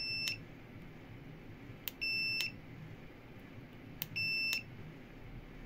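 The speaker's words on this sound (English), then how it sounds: "I've put this up to my VC99 multimeter on continuity" A VC99 digital multimeter set to continuity gives three short, high beeps spaced about two seconds apart over a low background hum.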